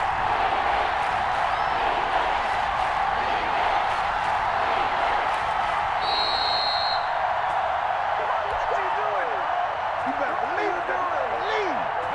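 Stadium crowd in the Madden NFL 21 video game during a Raiders at Seahawks game on a big third down, a loud continuous roar of cheering fans filling the whole stretch, with no voice over it.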